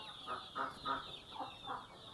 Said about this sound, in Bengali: এটা ব্রাউন কক